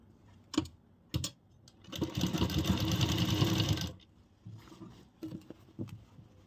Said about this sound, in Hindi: किनारी सिलाई लगाएंगे